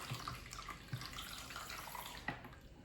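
Beer splashing into a chili bowl with stuck-on ingredients, a soft liquid pour with a few small splashes and gurgles, close and fairly quiet, no talking.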